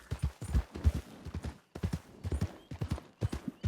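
Horse hooves clip-clop steadily in the Red Dead video game, a close, rhythmic run of quick hoof strikes in regular bursts with brief pauses, heard alone without talking.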